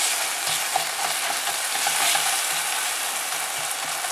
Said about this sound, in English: Mash the tomatoes really well.